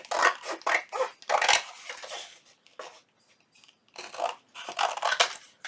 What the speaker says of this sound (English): I'm just going to trim out this little book page